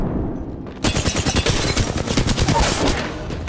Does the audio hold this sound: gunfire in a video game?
yes